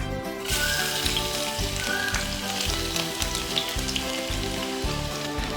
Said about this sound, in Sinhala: තෙල් ටික රත් වුණාම සුදු ලුණු ටික දාගමු.